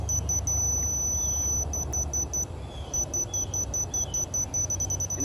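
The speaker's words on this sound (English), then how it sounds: "It's already beeping, so I know it's picking it up." A high electronic tone from a DOVOH laser receiver holds steadily, then breaks into rapid repeated beeps pulsing in a quick, even rhythm.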